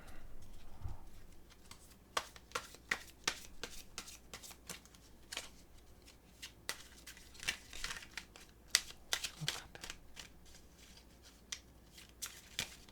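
Tarot cards being shuffled by hand, a long run of crisp riffling and flicking bursts with short pauses, close and fairly quiet, with no talking.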